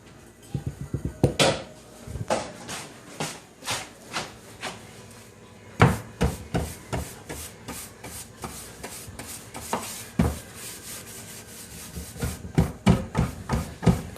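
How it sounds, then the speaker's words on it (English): Soft wax brushed onto chalk-painted kitchen cabinets, including over the metal hardware, making repeated close scrubbing and rubbing strokes in an uneven rhythm, with occasional knocks of the brush against the wood. "And now I'm going to apply the soft wax with the brush."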